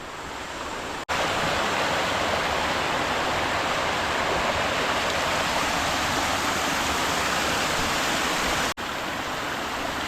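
A small river at night rushes in a steady, dense wash of flowing water, loud and close, with no voices.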